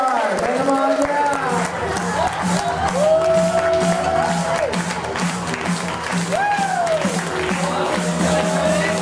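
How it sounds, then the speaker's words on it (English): A crowd at a weekend event gives a standing ovation, with sustained clapping, cheering and whoops that fill the space, while voices shout over the applause throughout. "give him a huge round of applause. Standing ovation for Casey Remillard."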